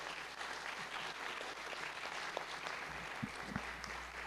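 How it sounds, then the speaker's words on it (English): An audience claps at the close of a lightning talk at a Python conference, a dense, steady round of applause from a room of listeners sustained throughout, with a few louder claps near the end. "I'm sorry, I clapped too soon."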